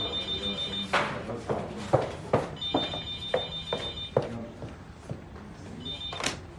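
An office telephone rings in repeated electronic bursts, three ring cycles separated by short gaps, fairly close and clear, with voices and room activity underneath.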